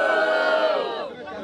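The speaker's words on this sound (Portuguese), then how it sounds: "mão pra cima e muito barulho para as rimas do Portuga" A crowd at a Brazilian MC rap battle in Londrina roars and cheers loudly for a rapper's rhymes, a dense sustained burst of shouting voices that swells and then tapers off.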